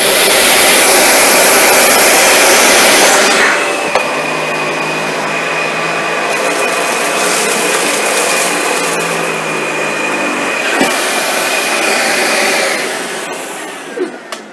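A Dyson vacuum cleaner makes one pass over a floor in a steady, loud whirring roar that holds for about twelve seconds, then winds down and cuts off near the end.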